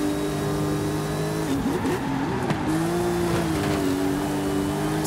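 Classic cars racing in Forza Horizon 5, a loud droning engine note that dips and climbs through a gear change, with tyre squeal and other cars roaring nearby, no talk.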